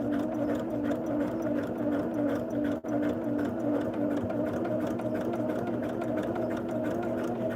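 A sewing machine stitches a twisted log cabin quilt block at an unhurried, even pace, humming continuously up close with one brief pause and no voices.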